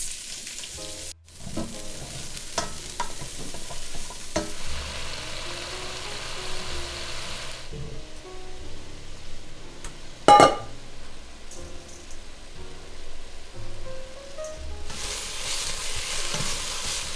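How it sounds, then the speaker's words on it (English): Cauliflower frying in oil in a pan for Chinese home cooking, a steady sizzling hiss with stirring knocks and one sharp clatter midway, close-up and wordless. "Oil in and our cauliflower."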